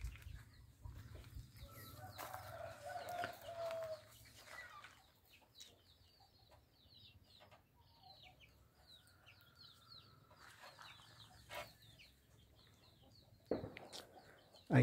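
Chickens cluck and murmur softly inside a coop where baby chicks are kept, intermittent calls at moderate distance over a low background hum, with a sharp knock near the end.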